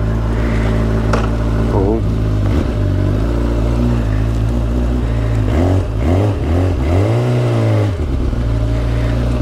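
A Kawasaki motorcycle on its stock factory exhaust revs nearby, the engine note climbing and dropping through several throttle blips over a steady idle, with one short exclamation from a voice.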